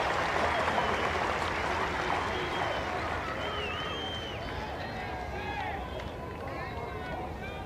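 Cricket crowd applauding a boundary four at a South Africa versus England Test match in 1995, a broad sustained wash of clapping and cheering from a large stadium audience, steady and dense throughout with faint whistles rising above it.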